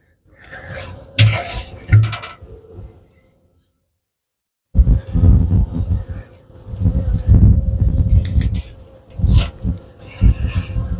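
Close, buzzing drone of honey bees during a honey harvest, rising and falling in bursts, with a brief silent gap before louder buzzing and rustling resume.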